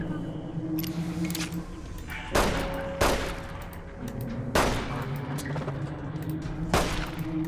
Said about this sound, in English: Let's shoot the wall, shall we?